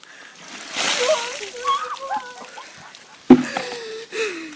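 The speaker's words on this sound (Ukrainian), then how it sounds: "у Переяславі задля благодійності крижаною водою обливається чи не кожен третій" During an ice bucket challenge, a bucket of ice water is dumped over a person: a short sharp splash and slosh followed by gasping, with excited voices and talking around it.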